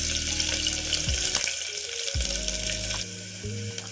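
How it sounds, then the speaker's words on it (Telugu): Garlic fries in hot oil in a pressure cooker, giving a steady crackling sizzle with occasional stirring scrapes. Low clattering tones and a brief watery rush rise and drop away partway through. "ఆయిల్ వేడెక్కాక వెల్లుల్లిపాయలు వేసుకుందాం"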